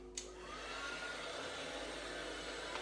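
A handheld dryer blows over an inked card during cardmaking, starting with a brief click and then running as a constant whooshing hum with no voices.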